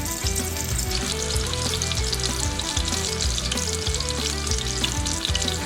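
Lamb pieces for an Irish Guinness stew sear in a hot pot, a loud, steady sizzle and crackle that runs unbroken throughout, with no voices over it.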